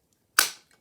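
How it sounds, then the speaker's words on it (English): A small round paper punch snaps once through card stock, cutting a half-circle thumb hole for a tea light box; a single sharp, close click with a short crisp tail, alone in a quiet room. "If I use this little round punch and just punch out a half circle"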